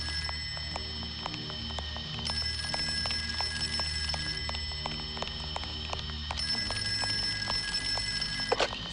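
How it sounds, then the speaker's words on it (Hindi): A telephone rings at a desert army camp, a steady repeating electronic ring sounding for the whole stretch over a continuous droning background, with no voices. "फोन आ गया।"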